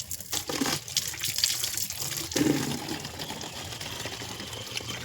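Tap water runs into bottles at home, making a near gushing, splashing stream with shifting pitch as the bottles fill.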